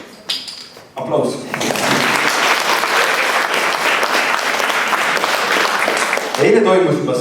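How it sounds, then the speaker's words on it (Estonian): A crowd at a school gala concert breaks into loud, sustained applause after brief speech, dense clapping holding steady for several seconds with a voice rising near the end. "Aplaus."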